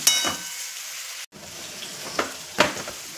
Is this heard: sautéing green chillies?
yes